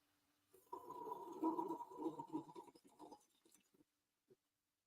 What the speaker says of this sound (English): Some of y'all may think it's a slurp. It may sound like, it may feel like, it may look like a slurp, but it's a sip.